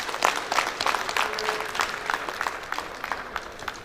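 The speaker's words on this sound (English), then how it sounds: "Let's give him a round of applause as he comes here." Audience applause at the opening ceremony of a builders' conference and AGM, a fairly steady wash of many hands clapping through the clip, moderately loud with a slight fade toward the end.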